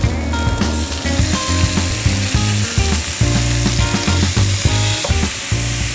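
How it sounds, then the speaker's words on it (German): Chicken meat sizzling in a pot for a chicken and mushroom stew, a loud close frying hiss overlaid by a steady, repetitive rhythmic tonal clatter, with no voices. "jetzt geben wir die Hähnchenfleisch rein"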